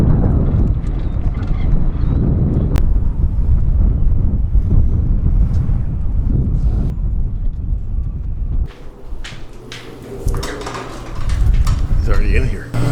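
Gusty wind buffets a microphone outdoors, a loud low rumble that swells and drops in waves, with people talking over parts of it.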